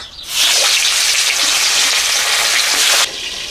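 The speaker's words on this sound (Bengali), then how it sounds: "ওদিকে আর ট্যাংরা মাছ ভাজা হচ্ছে" Loud, steady hissing sizzle of tangra fish frying in hot mustard oil, close and continuous, swelling in quickly and cutting off near the end.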